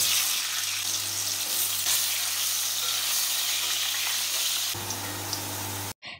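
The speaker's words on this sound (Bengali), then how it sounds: "এখন কড়াইতে তেল দিয়ে আলুগুলোকে লাল লাল করে ভেজে তুলে নেব।" Potato pieces fry in hot oil in a wok with a steady, dense sizzle that stays loud and close, then cuts off abruptly near the end.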